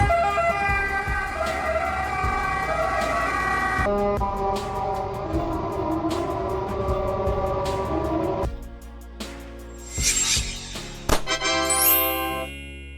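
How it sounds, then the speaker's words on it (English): Siren of an ambulance from Vatican City, a Fiat Ducato or Mercedes-Benz Vito, wailing loudly and steadily in repeated tone cycles, then breaking off into shorter bursts near the end alongside passing road traffic. "ambulances are primarily Fiat Ducato and Mercedes-Benz Vito"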